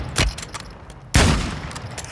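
Sniper fire in a video game, with two sharp, loud shots spaced about a second apart, each followed by a short rumbling tail, while fainter battle noises sound between them and no one speaks.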